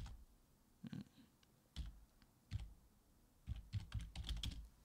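Computer keyboard typing a group name, with short bursts of quiet keystrokes and clicks separated by pauses, close and alone with no voices.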